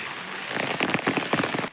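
Rain falls in a village, a steady close patter with scattered sharper drops hitting a surface, continuous through the short stretch.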